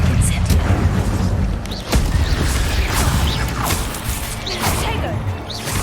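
Accio and Incendio spells are cast in combat against spiders in Hogwarts Legacy, producing whooshes, fiery bursts and heavy impacts layered over dense battle noise, with a sharp hit near the two-second mark.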